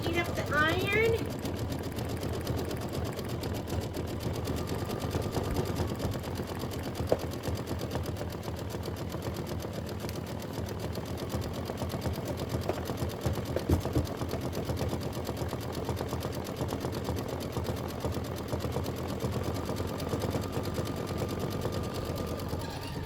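An embroidery machine sews a satin stitch on a quilt block, a steady dense rapid needle chatter running continuously throughout at close range.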